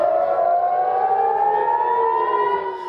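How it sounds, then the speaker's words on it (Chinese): A civil defense air raid siren wails across Israel during an Iranian missile attack, one loud sustained tone slowly rising in pitch and filling the whole stretch before easing slightly at the end. "刺耳的空袭警报大作"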